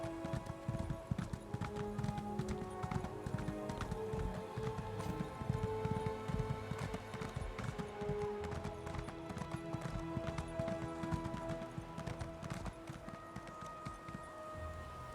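Rhythmic clip-clop of a horse galloping on hard ground in the Elder Scrolls Online, a fast steady hoofbeat pattern running throughout at moderate level.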